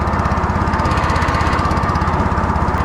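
A small outboard engine on a long-tail catamaran fishing boat idling close by, a steady low throbbing putter with a rapid, even pulse and no change in pace.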